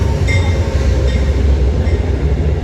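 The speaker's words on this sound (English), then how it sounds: "And here comes another train. So This is a freight train. This is a big one." A big freight train rolls through Ashland with a loud, continuous low rumble and steady rail noise, heard up close with no talking.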